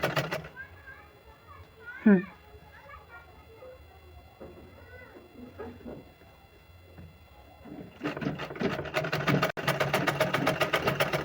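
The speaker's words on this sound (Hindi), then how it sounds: "अब हम इस पर सिलाई चलाना है।" A sewing machine stitches a Patiala salwar on the marked plate, starting up loud and dense with a rapid steady rattle in the final few seconds, after a stretch of quieter background sounds and a brief animal-like cry.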